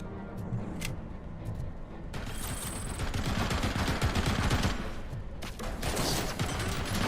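Rapid, loud bursts of gunfire fill RoboCop: Rogue City gameplay, dense overlapping shots with brief gaps before heavy firing resumes, shotgun blasts mixed into a constant barrage.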